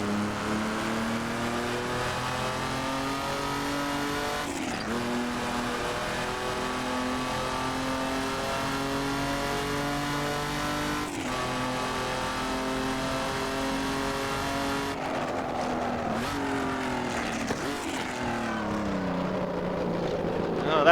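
A Jaguar XJ13 racing engine in Assetto Corsa revs hard and steadily, its loud layered harmonics climbing through gears with brief throttle lifts and shifts, close and continuous with no talk.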